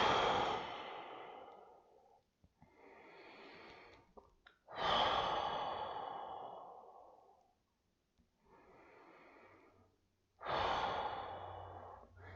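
Meditating people exhale in long, audible breaths, several slow sighing outbreaths separated by quiet pauses, close and soft with no speech.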